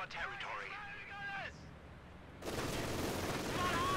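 Machine gun and mortar fire in a World War II strategy video game, sharp crackling bursts of gunfire and booms after a stretch of someone commentating, loud and continuous toward the end.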